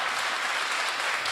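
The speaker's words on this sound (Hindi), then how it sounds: "एक बार तालियां हो जाए।" A crowd claps steadily and densely throughout a brief moment at a Hindi kavi sammelan poetry recital, the applause full and close with no talk over it.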